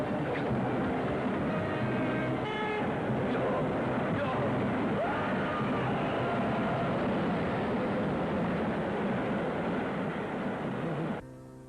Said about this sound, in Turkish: Tren geliyor bak tren.